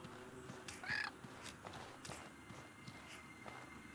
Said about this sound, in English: I'm gonna get rid of this stupid bird.